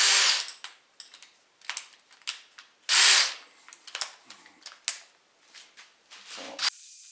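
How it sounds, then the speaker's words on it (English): A power drill fitted with an extension sands the inside of a plywood cup, running in repeated loud whirring bursts and short pauses, close and harsh, ending in a brief higher whine. "drill extension, and that lets me go down on the inside of the cups"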